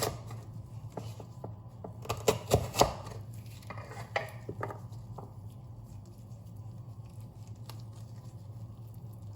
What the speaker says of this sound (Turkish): Şöyle ben küpler halinde kesmek istiyorum.